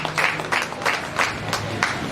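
Applause from an audience at an award ceremony, heard as a few bursts of clapping that swell and fade in quick succession over about two seconds, moderately loud and fairly close.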